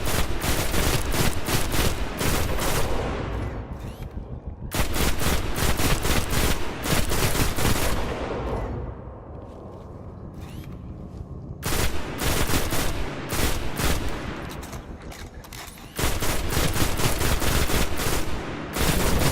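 Rapid automatic weapon fire in the video game Destiny, loud dense bursts of repeated shots with short pauses between volleys, close and continuous with no talking.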